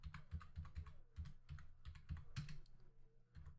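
Rapid keystrokes on a computer keyboard entering router configuration commands, a close, steady run of clicky taps with brief pauses between bursts and no talking.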